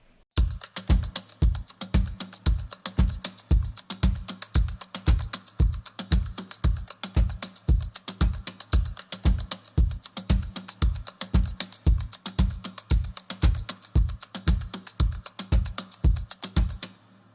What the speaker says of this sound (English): So this here is the guitar percussion,